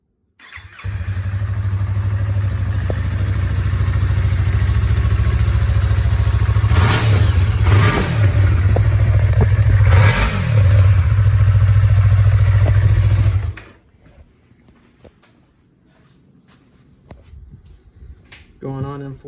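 A 2020 Yamaha R3 motorcycle with its stock muffler idles loudly and is revved in a few sharp blips, then the engine shuts off, leaving near silence with faint clicks.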